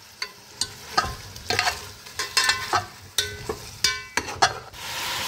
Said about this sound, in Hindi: अब इसको थोड़ा सा फ्राई करके बाकी चीज़ें और बाकी मसाले डाले जाएंगे।